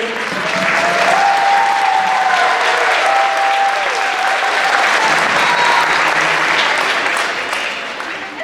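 Loud, sustained applause fills a school auditorium after a middle school concert band performs at a winter concert, tapering slightly at the end, with faint voices beneath.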